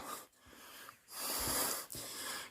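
Heavy, wheezing breaths from a solo hiker climbing a steep trail on Mount Sumbing, drawn in long rasping bursts with brief pauses, close and loud with no talk.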